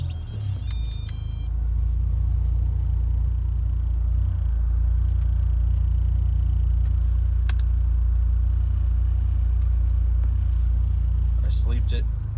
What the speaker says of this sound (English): we should be able to turn the car on